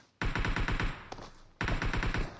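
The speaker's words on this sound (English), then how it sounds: "He's just heading toward gunfire whenever he hears it." Rapid bursts of automatic gunfire, two long volleys separated by a short pause with a single sharp shot, loud and close.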